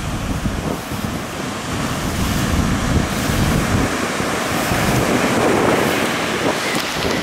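Ocean waves wash steadily onto a beach on the southwest coast of Sri Lanka along the Arabian Sea, a continuous loud roar of surf mixed with gusty wind across the microphone.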